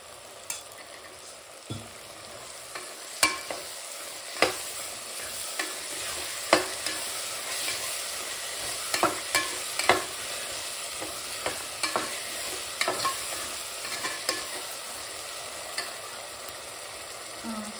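Vegetable biryani masala with plain curd sizzles steadily in a pan as a spoon stirs it, producing a continuous frying hiss broken by regular scraping strokes and knocks throughout.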